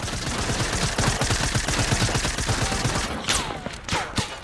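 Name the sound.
gunfire in a video game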